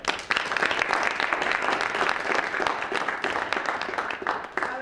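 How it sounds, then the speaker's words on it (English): Applause for a board chairman at a press conference, a steady burst of many hands clapping in a room, moderately loud and continuous from start to finish with no talk. "give the chairman of our board a big round of applause"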